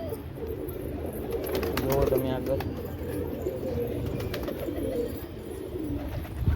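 Pigeons feeding on scattered grain give soft, low cooing calls close by, mixed with shuffling and light wing noise, while a person talks over them.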